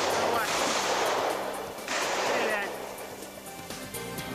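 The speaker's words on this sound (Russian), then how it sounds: "В этот момент в развалинах раздаются автоматные очереди." Bursts of automatic gunfire ring out from building ruins during an armed standoff with hostages, loud and close, with two long rattling volleys followed by scattered shots and fading echoes.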